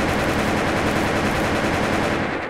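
Rapid automatic gunfire from a weapon in the online shooter Wolfteam, a continuous dense burst of shots lasting a couple of seconds with no talking.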